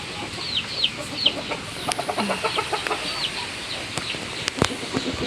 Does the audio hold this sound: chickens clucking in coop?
yes